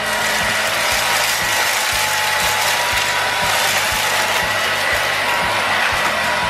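A Philips PowerPro Duo FC6168 cordless stick vacuum cleaner runs steadily and close by, a continuous broadband whir with a faint rhythmic mechanical clicking underneath, no talk over it.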